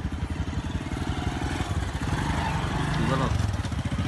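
A motorcycle carrying two riders and betel nut seedlings putters along with a steady engine drone that thickens and grows louder toward the end, with a brief voice near the close.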